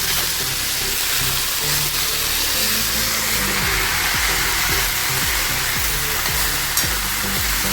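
Red amaranth leaves (lal math) being stirred and sautéed in a hot pan, giving a steady, loud broadband sizzle with repeated scraping and stirring strokes throughout, no voices.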